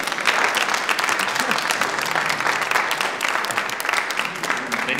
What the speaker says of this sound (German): Einen Applaus für Jackie.